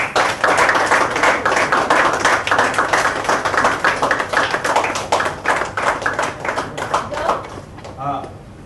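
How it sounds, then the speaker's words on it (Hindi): Dense, steady clapping from an audience at an on-location shoot of Balika Vadhu, greeting an introduced performer; loud and continuous for several seconds, then thinning out and fading near the end. "तालियां।"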